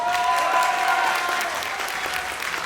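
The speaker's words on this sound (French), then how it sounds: "applaudissements." A convention audience in a crowded hall at a manga event in Paris breaks into loud, dense applause that holds steady for a few seconds before easing slightly; no speech over it.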